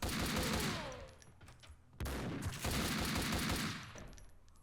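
Loud gunfire from a Striker shotgun in the game Max Payne 2, two dense bursts of blasts about two seconds apart, each trailing into a fading, echoing tail.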